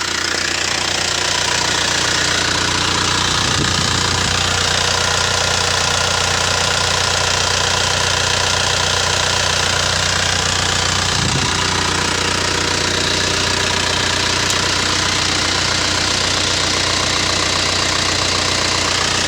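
A used Isuzu Cameo pickup's engine idles steadily, close and loud, with a constant low rumble and a faint ticking knock running through it. No voices can be heard.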